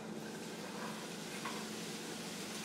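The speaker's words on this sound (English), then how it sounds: "I'm going to add my beet leaves." Beet leaves hit a hot pan with toasted garlic, producing a faint, even sizzle and soft stirring rustle, heard alone and at low volume.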